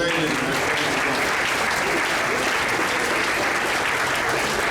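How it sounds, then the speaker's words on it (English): Sustained audience applause fills a school awards ceremony honoring a soccer program, dense and steady clapping throughout without pause. "Another round of applause for the soccer program."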